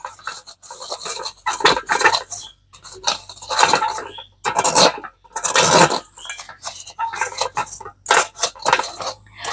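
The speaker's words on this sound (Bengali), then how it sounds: "এই ম্যাশার দিয়ে এইভাবে খুব ভালো করে গুঁড়ো করে নেব" A metal masher crushing lumpy besan dough in a pan for besan laddu, giving bursts of scraping, clinking metal strokes with short pauses between them, loud and close, no talk.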